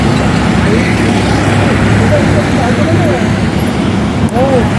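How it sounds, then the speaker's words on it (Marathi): Vehicles stream nonstop across a bridge, including rickshaws and large trucks, making a loud, continuous traffic roar with engine hum and a brief horn near the end. "कंटिन्यू गाड्या रनिंग येते बघा"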